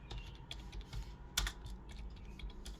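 Quick, light clicks from a computer keyboard while code is typed, a quiet irregular patter of keystrokes with one sharper tap partway through, heard alone and close.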